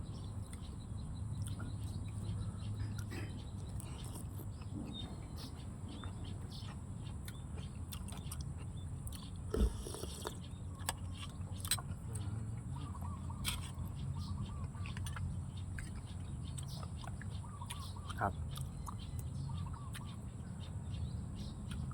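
Small birds call faintly outdoors in the background, scattered chirps over a steady low hum and ambient noise, with no talk.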